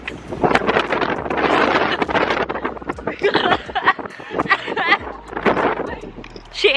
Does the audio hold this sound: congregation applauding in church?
no